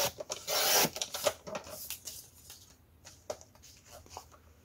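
Scissors snip and rasp through paper while a trifold envelope is cut out for a scrapbook advent calendar, a few close crisp cuts and rustles, loudest near the start, then quieter handling.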